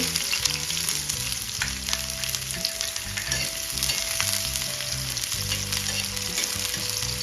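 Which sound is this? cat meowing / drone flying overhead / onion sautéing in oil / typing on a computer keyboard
onion sautéing in oil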